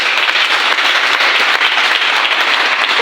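A church congregation bursts into sustained, dense applause, loud and close, with many hands clapping at once and no voices heard.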